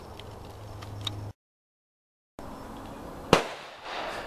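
A full metal jacket ball round is fired at a single board on a shooting range, one sharp, loud crack with a brief ringing tail, following steady outdoor background noise and a gap of silence.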